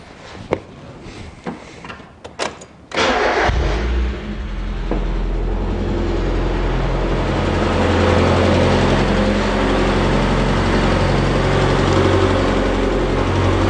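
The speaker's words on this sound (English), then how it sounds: "this thing fired right up and runs really pretty well" A Mazda Miata engine cranks after a few clunks and clicks, catches, and settles into a loud, steady, smooth idle with a low rumble that holds for about ten seconds.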